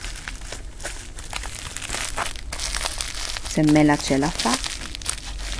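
A crinkly plastic-wrapped package is opened close by, with rustling and crinkling throughout while someone speaks over it and briefly sings a few notes.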